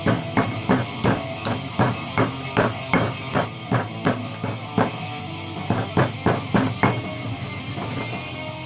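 Turkey bones being hammered into bone dust, a close series of sharp repeated blows in a fairly regular rhythm, roughly two or three strikes a second with a few brief pauses.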